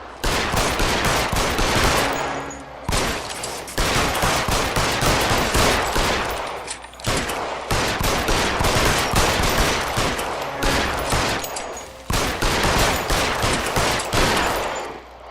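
Sustained automatic gunfire in the L.A. Noire video game, loud and dense, with rapid bursts repeated across the whole stretch and only brief pauses between volleys.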